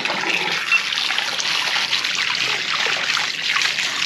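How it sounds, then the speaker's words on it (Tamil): Sea cucumber being washed under running water, a steady close trickle and splash of tap water with no pauses and no voices. "அட்டைய நல்லா சுத்தமா கழுவிட்டு"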